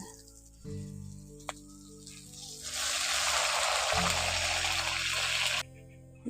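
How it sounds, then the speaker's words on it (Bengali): Water pours into a pan of fried-down spice paste for a lentil and egg curry, swelling into a loud rushing hiss for a couple of seconds before cutting off, over a low steady hum. "এবার পরিমাণ মতো জলটা দিয়ে দিচ্ছি"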